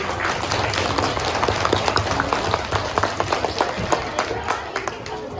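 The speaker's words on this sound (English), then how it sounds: "Let's give him a round of applause." A school audience claps for a student called down during a grade 1 and 2 reclassification recognition, giving a steady round of applause with sharper individual claps standing out near the end.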